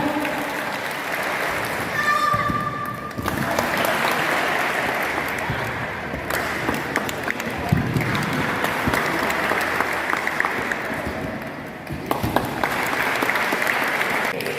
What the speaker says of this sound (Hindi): शाबाश शाबाश, तालियां तालियां तालियां।